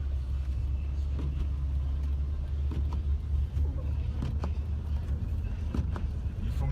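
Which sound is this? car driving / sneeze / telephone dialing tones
car driving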